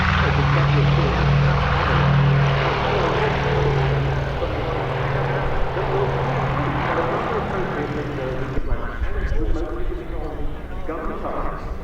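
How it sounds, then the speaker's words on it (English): Douglas A-26C Invader piston-engined propeller aircraft at the Duxford Battle of Britain airshow, a steady droning engine roar with a low throbbing tone, fairly loud and continuous, with commentary voices underneath. "And here it is, the Douglas A26C Invader."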